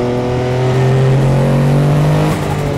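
A loud Porsche 962 race car engine, the Le Mans-winning car, revving hard and climbing in pitch, a close, continuous roar.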